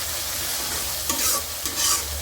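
A spoon stirs sour yogurt and spices into chicken korma in a pan, scraping and clinking in two quick strokes over a steady low sizzle of frying.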